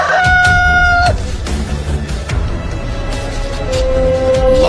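Rooster crowing used as a sound effect during a church Sunday school Easter play, two loud drawn-out crows close by, the second softer and lower, over a murky room background.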